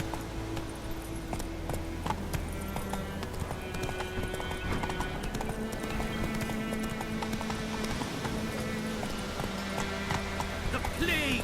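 A horse gallops in the open-world video game Witcher 3, with quick rhythmic hoofbeats running throughout, layered over game music and occasional voices.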